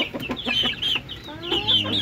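Backyard chickens cluck close by in a quick run of short, loud clucks, with a brief voice mixed in.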